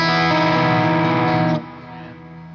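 A Chandler GAV 19 T amplifier on its thick setting with the drive section engaged plays a loud, sustained distorted chord that rings for over a second, then drops abruptly to a quieter decaying tail.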